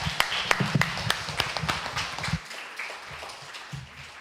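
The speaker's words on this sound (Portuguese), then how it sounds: "Mais palmas, gente." An audience claps at a Black Consciousness Week talk: crisp, fairly close individual claps build into brisk applause, then fade out partway through, leaving a quieter room with a few scattered sounds.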